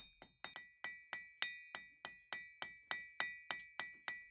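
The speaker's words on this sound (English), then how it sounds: "The blacksmith is hammering the heated metal." A blacksmith in Siwa, Egypt strikes heated metal with a hammer in an even, steady rhythm. Each blow rings bright and metallic with a clear decaying tone, heard alone and close.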